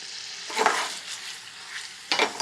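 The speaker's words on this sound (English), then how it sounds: "put them into the oven until they sizzle, just the way you hear them sizzling now" Food for a Spanish tapas-style starter sizzles hot in a saute pan straight from the oven, a steady close frying hiss with two louder crackling bursts, no voices.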